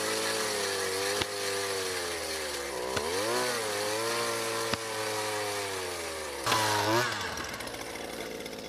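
A motorized ice auger bores a hole through lake ice, its engine droning loudly with pitch rises and dips as the bit bites, and sharp clicks punctuating the run.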